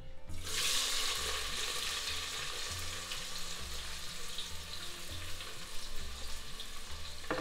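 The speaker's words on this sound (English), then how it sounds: "that's 2 roughly chopped onions, which is going straight into the oil" Two roughly chopped onions sizzle and fry in a spoonful of oil in a pot, a steady bright crackle close up with low clunks of a spoon stirring underneath.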